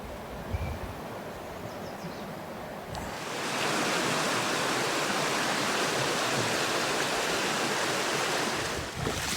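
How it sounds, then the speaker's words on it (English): River water rushing in a canyon creek near the Escalante, a broad steady roar that swells louder partway through as the walker moves upstream, continuous with no talk. "Walking right up the river."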